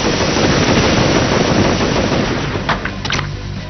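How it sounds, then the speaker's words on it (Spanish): Shotgun and machine gun fire from a video game, loud and dense as a continuous sustained barrage, easing slightly toward the end with a few separate bursts. "deciden atacarme con escopetas y ametralladoras"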